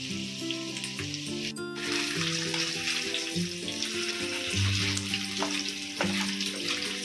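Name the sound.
tikka masala marinated chicken frying in a pan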